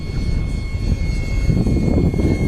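A 70mm EDF model of the XB-70 Valkyrie flies by with a steady, loud ducted-fan roar and broadband whoosh that swells slightly, no talking over it.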